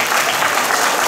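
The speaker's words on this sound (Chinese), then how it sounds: "我们是不是也给他一点掌声？" Dense applause fills a school hall at a private bilingual primary school's graduation ceremony as a sixth-grade student receives her diploma and perfect attendance award; steady, loud clapping from many hands without a break.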